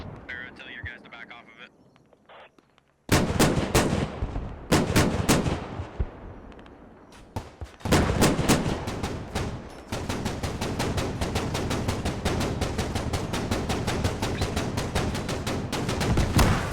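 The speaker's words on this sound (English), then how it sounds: "Mortars are starting to come in, thinning out PLA's ranks." Mortar impacts and gunfire explosions from the Squad video game, village combat between PLA and ADF forces, with loud booming blasts and dense, sustained bursts of fire, while a voice talks over the battle.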